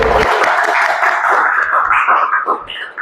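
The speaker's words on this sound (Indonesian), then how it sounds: "Oke, tepuk tangan." Classroom applause in a vocational school lesson, a dense continuous patter of many hands clapping close by for about three seconds, fading slightly at the end.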